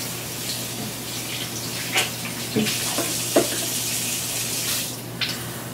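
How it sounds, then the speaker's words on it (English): A running tap pours steadily into a basin, with a few small splashes and clinks breaking the constant hiss. "Then I turn the water back on."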